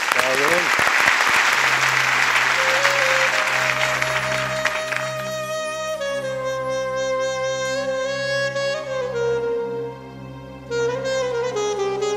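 A studio audience on a Turkish music show claps loudly and steadily. Soon a sustained instrumental melody rises and carries on as the applause fades toward the end.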